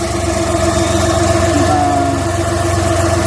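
A Multicab engine idles steadily at close range, a loud, even mechanical drone with a low rhythmic pulse and constant vibration throughout.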